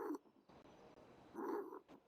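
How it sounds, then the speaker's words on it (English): A rabbit purrs in a GTA V roleplay scene. Two close, soft bursts of low, grainy rumbling are separated by a quieter stretch, with no talking. "Listen to this rabbit purr."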